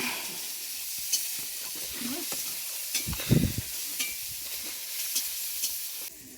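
Fish cook in a pan in a Sundarbans village kitchen, sizzling softly and steadily while a utensil stirs and scrapes now and then, with one louder scrape near the middle.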